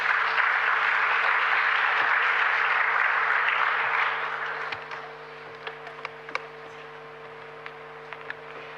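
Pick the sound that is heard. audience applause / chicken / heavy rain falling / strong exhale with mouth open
audience applause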